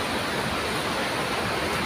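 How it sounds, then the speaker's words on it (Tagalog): Heavy rain and strong wind lash a storm-hit outdoor cooking spot in a dense, constant roar of wash with no breaks, loud and close, and no voices. "Guys, oh, lakas ng ulan."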